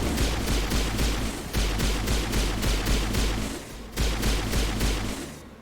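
Rapid gunfire in the video game Mass Effect 1 Legendary Edition, a dense, loud, continuous stream of sharp shots with brief pauses.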